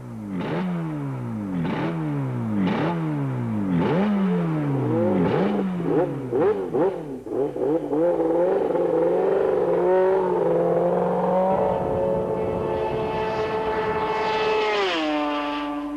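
An Elf E racing motorcycle accelerates hard on a speed-record run, its engine revving up through repeated rising sweeps as gears change, then settling into a sustained high-pitched howl, loud and close, with no talking.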